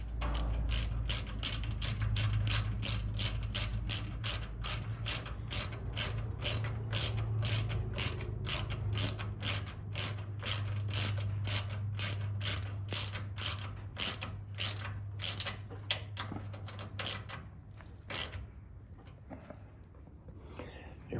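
A ratchet wrench clicks rapidly and loudly in steady bursts while tightening the pitman arm on a 1982 Toyota 4WD pickup in a barn shop, then slows to a few spaced clicks before stopping.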